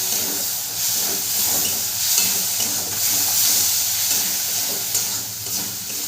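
Spice paste of ground cumin and other masala sizzling in a pan with a splash of water, a steady close hiss and fry running unbroken throughout with no talk.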